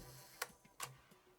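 A Hasselblad 200/2000 series camera fitted with a C lens fires its shutter, giving two sharp, quiet clicks about half a second apart in an otherwise still room.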